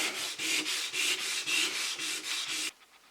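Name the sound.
sanding an oak floor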